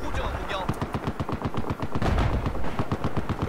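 Rapid gunfire from a Battlefield 4 Rush match on the Golmud Railway map, sounding as quick repeated bursts of sharp shots, loud and close, firing almost continuously with a short break midway.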